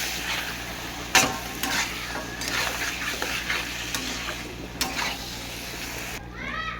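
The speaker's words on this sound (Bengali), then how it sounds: "জিরে গুঁড়ো দিলাম, ধনের গুঁড়ো, গোলমরিচের গুঁড়ো দিয়ে আবার কষে নেবো।" Mutton skin being sautéed with cumin, coriander and black pepper powder, a constant sizzle under irregular stirring scrapes and a couple of sharp knocks against the pan, no talk.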